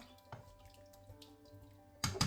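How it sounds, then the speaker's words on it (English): Water is poured into a cooking pot for duck cabbage soup in a quiet kitchen: faint trickles and small splashes at first, then a louder gush of pouring over the last moment. "Then we put more water."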